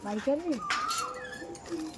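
Pigeons in a Madrasi loft coo softly and close by, a few low rolling calls over a faint background of the loft.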